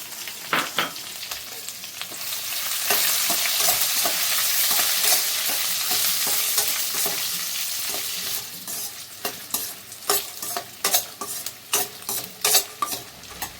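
Dried red chillies frying in hot oil for gongura chutney, a steady loud sizzle swelling in the middle, then sharp scraping stirs and crackles in quick bursts, no voices.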